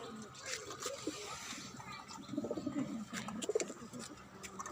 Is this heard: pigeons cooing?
yes